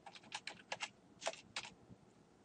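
Quiet, close keystrokes on a computer keyboard as a password is entered, a quick irregular burst of about a dozen clicks with a short pause, then silence.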